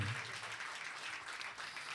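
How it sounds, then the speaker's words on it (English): Faint applause for volunteers at a studio performance event, a soft, steady wash of clapping that fills the moment without a break. "Let's give our volunteers a round of applause,"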